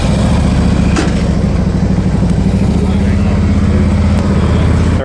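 Several motorcycles run at a bike test and demo ride event in Michigan, with a loud, steady engine rumble close by and a person talking over it.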